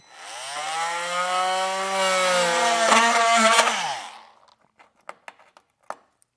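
A power saw cuts a notch in plastic trim on a 2024 Ford Maverick during base plate installation, a loud continuous whine for about four seconds that stops abruptly, followed by a few scattered clicks and taps.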